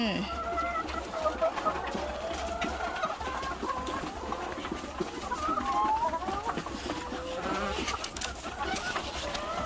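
Egg-laying hens cluck and chatter continuously nearby in winter during feeding and egg collecting, a busy flock sound with overlapping calls and occasional louder squawks.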